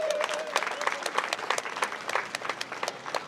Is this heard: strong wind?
no